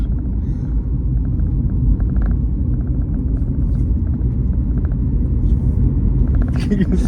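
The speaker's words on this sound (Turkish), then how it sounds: "Arabanın sesi geliyor." A car passes nearby outdoors, a steady low rumble that stays fairly loud under people talking and laughing.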